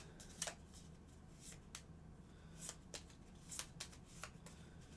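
Playing cards being shuffled close up, a series of quick riffling bursts with short pauses between them, fairly quiet.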